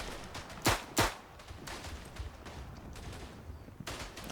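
The player's gun fires in the Verdun video game: two sharp, loud shots close together near the start, then scattered fainter distant gunfire and a final shot.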